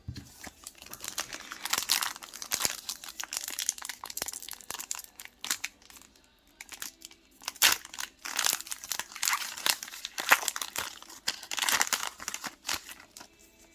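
Pokemon card booster pack being torn and crinkled open up close, its foil wrapper rustling and crackling in irregular bursts with short quiet gaps, fairly soft and without talk.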